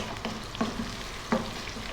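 Onions frying in a pan over above-medium heat for beef masala, a steady close sizzle broken by a few sharper stirring clicks, with no talking.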